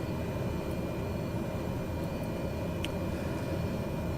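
Propeller aircraft engines run up before takeoff with props at maximum RPM in wet weather, a loud, constant broadband roar that holds steady throughout with no talk.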